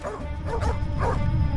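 Several dogs barking at a bear near some houses, a run of loud, overlapping barks and yips close by.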